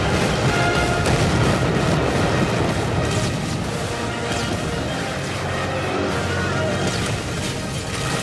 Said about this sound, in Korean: 그 대포 소리 대신에 이 폭발음으로 대신하고 있는 거죠